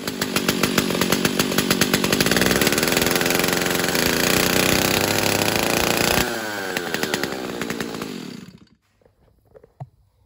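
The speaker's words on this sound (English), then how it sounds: "let's see if we can get a chainsaw fired up." A chainsaw runs loud and close for about eight seconds, its harsh buzzing engine shifting in tone as it cuts a fence board to length, then stops, leaving a few faint knocks.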